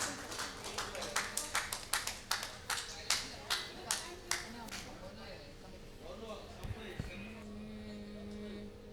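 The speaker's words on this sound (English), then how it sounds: "let us all give them a warm round of applause" An audience at a wedding celebration claps for performers, a few distinct, evenly spaced hand claps that thin out after several seconds, with voices and room sound continuing beneath.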